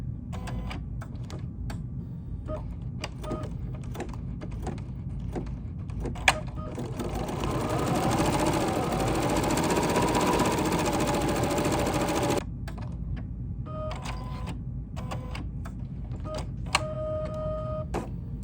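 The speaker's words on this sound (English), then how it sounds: "All right, so now I'm going to go ahead and stitch." An embroidery machine stitches a baseball cap. Scattered mechanical clicks and ticks lead into about six seconds of fast, steady, whirring stitching, then it stops and sparse clicking returns.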